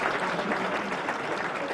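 Applause breaks out in a NATO meeting room in Brussels as Montenegro's Deputy Prime Minister and Minister of Defence enters, steady clapping from a gathered group sustained throughout at moderate level.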